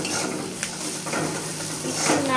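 Cauliflower florets with turmeric are stirred in a hot pan while cooking, giving a steady sizzle with scraping and clinking of the utensil against the pan, close and fairly loud.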